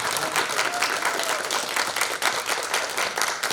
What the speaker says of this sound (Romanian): Pauza e pentru aplauze.